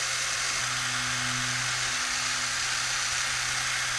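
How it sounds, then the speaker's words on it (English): A wire brush spinning on a drill against a rusty bolt held in pliers during a travel van build, a loud continuous hissing whir with a steady motor hum, close and unbroken. "if you have the wire brush on the drill,"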